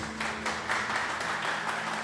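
A church congregation applauds during an evening service, steady quiet clapping from many hands throughout, heard at a distance.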